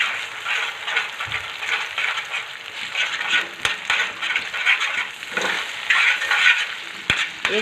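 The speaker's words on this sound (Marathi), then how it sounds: "अंडे घातल्याच्यानंतर आपल्याला परत एकदा गॅस मोठा करून घ्यायचा आणि छान असं मिक्स करत राहायचं" Egg bhurji is stirred in an iron pan over a high flame: a busy sizzle with repeated scraping of the spoon against the metal and a couple of sharp clinks, close and without talk.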